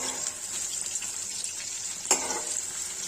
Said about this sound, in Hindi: ये देखिए गाइस पनीर फ्राई हो गया